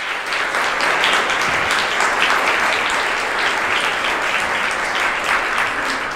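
An audience at an architecture talk applauding its guests, loud sustained clapping from a full room that stays even from start to finish.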